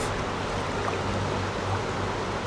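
River water at Litza falls flows in a steady, close rushing wash of broadband noise with no break and no voices.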